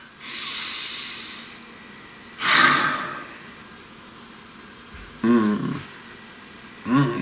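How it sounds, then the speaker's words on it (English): Slow deep breaths close to the mic, a long drawn inhale followed by a rushing exhale, then two shorter breathy puffs with pauses of quiet between them. "Breathe."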